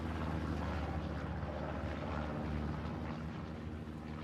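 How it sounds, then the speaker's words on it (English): A recon plane passes over a video game tank battle, giving a steady, droning propeller-engine hum that holds evenly and fades slightly toward the end. "Recon plane going through for the Allies."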